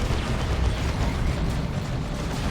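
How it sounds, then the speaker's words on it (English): Mines detonating during a Warhammer 40,000: Dawn of War 2 battle make a dense, steady roar of overlapping explosions and deep rumbling that runs unbroken for the whole stretch. "Mines dropped in."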